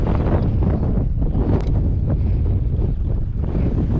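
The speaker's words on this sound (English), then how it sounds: "Boy, this wind is bad." Strong wind buffets the microphone in a steady, loud roar throughout, at an open inshore lagoon during fishing, with no talk.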